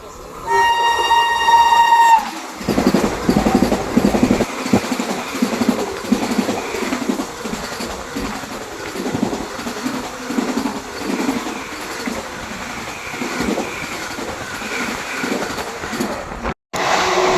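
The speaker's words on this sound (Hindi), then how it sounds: "अयोध्या वंदे भारत एक्सप्रेस" Ayodhya Vande Bharat Express passing close by at speed: a long horn blast opens, then a loud continuous rush of wheels, rattling carriages and wind roar fills the rest, with a brief dip near the end.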